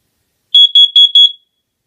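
Smoke detector under test emits four quick, loud, piercing electronic beeps in a tight row, close by, with silence before and after.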